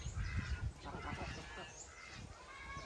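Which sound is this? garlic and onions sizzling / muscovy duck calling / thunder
muscovy duck calling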